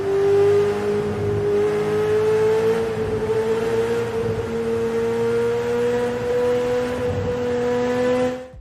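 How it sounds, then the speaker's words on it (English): An AI-generated car races at high speed through a tunnel, a loud steady engine drone with a slowly rising pitch and a hollow enclosed roar, continuous throughout. "The car moves at high speed through the tunnel just as we asked"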